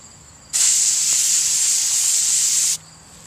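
Aerosol spray sealant hisses onto a Magic: The Gathering card in one steady, loud burst of about two seconds, starting and stopping abruptly against a quiet room.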